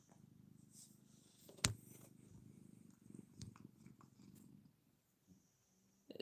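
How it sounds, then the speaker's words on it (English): A cat purring softly and steadily up close, with a brief sharp knock partway through. "Like Dakota's purring right now."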